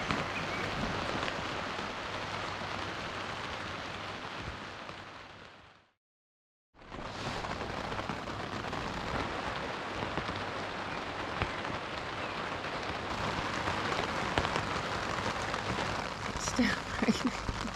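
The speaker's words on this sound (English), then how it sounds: "Still raining." Steady broadband hiss of rain falling on a tent or outdoor surface at a campsite in Wales, continuous throughout apart from a brief silent gap, with occasional louder drops near the end.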